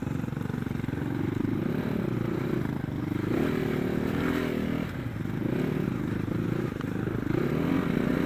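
Motorcycle ridden over a rough road on the Rybachy Peninsula, a steady close engine drone with harmonics shifting as speed changes, over continuous rattling and scraping from the bumpy track, with no talking.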